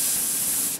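A short, loud hiss of spray cooling freshly welded metal on a 1973 Triumph TR6 under restoration, one continuous burst close by that cuts off abruptly.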